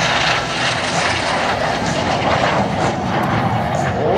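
A T-33 jet aircraft roars past on a high-speed pass at an airshow, a loud sustained broadband rush that stays strong throughout, with no talking.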